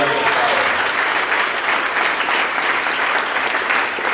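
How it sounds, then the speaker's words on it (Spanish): A church congregation applauds together, a steady, dense wash of clapping that holds at full strength throughout without easing off, with no voices standing out above it. "Denle fuerte ese aplauso siempre al Señor."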